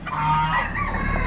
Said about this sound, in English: Got a hen